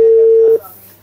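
A Grandstream GXP1405 IP telephone gives a single steady call tone that holds for about half a second and then cuts off, leaving only a faint low hum.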